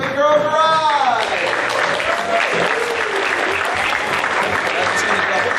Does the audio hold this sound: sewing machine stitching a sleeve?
no